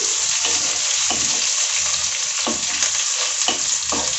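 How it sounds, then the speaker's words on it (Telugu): Eggplant curry ingredients for Nellore-style vankaya pulusu sizzle steadily in a hot pan, with scraping stirs that come every second or so. "ఒకసారి ఇవన్నీ చక్కగా కలుపుకుందాము"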